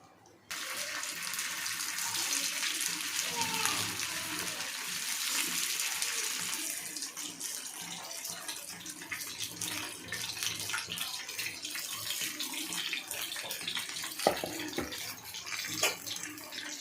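Fish dropped into hot oil on a tawa, with a sudden loud burst of frying hiss that stays dense and continuous, easing slightly after several seconds, close up with no talking.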